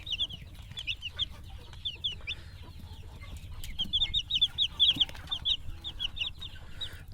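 Broiler chicks kept at home, a busy chorus of high repeated cheeping peeps in quick bursts, growing denser and louder midway, over a low background rumble.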